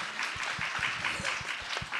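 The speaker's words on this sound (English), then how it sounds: "only one person applauded" A single person clapping in a conference hall at a scientific summit, about eight slow, evenly spaced claps at moderate distance.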